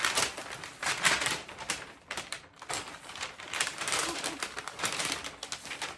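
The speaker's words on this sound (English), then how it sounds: "Now we're going to fold it up." Gift wrapping paper being folded around a box for a Christmas present: dense, continuous crinkling and rustling with crisp paper crackles, fairly close and moderately loud, with no talking.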